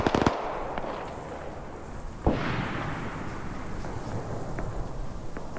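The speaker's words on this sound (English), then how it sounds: "Yeah, I hear some heavy things going off back here. Oh, that's the mortar." Mortar shells burst in a WW2 video game: a sharp nearby crack opens, then a second heavy boom with a long rolling rumble, over a dull background of distant gunfire crackle.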